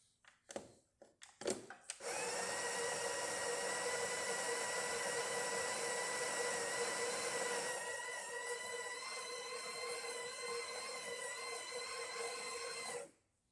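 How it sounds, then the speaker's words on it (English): A Breville Barista Express espresso machine pulls a test shot after a full service and descaling, its pump droning loud and steady for about eleven seconds after a few brief clicks, then cutting off abruptly. "let's go ahead and test it and make espresso shot on it"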